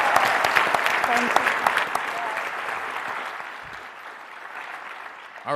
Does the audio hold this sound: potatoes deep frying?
no